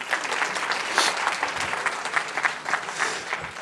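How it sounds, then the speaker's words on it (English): An audience at a talk with Bollywood actor Boman Irani gives a round of applause, a fairly loud, steady wash of clapping that swells slightly and then continues. "I think we want a round of applause for Amir Khan."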